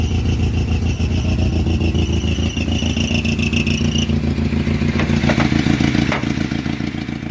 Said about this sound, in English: the little spring that pushes it up will rub against the hood and make that terrible squealing noise